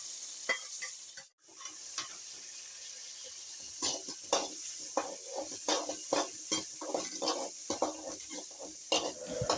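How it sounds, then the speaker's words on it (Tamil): Ginger, cinnamon and cloves sautéing in a pan for egg kuzhambu masala, a soft steady sizzle under frequent close scraping and clattering stirring strokes, with a brief lull just before the stirring picks up. "இஞ்சி, பட்டை, லவங்கம் வதக்கிக்கலாம்"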